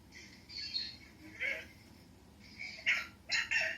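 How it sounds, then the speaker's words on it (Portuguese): A dog barks and yelps through a microphone during an online class call, several short, muffled barks and whines spread across the clip over a steady hiss of line noise. "alguém que tem um cachorro pode desligar o microfone"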